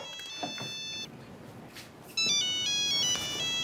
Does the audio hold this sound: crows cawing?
no